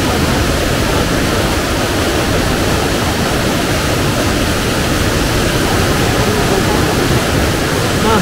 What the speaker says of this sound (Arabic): ها هو النبع الصافي الساحق الماحق هنا في النهر الأزرق